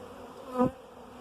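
A single bee at Marlpit Community Garden buzzes briefly past, nearby and fairly faint, over quiet outdoor background.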